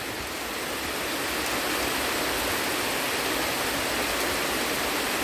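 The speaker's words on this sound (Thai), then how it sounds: "บรรยากาศฝนตกอยู่กับลูกสองคนพี่น้อง" Steady rain pours down around a house, a dense, even hiss that stays constant and fairly close throughout with no voices.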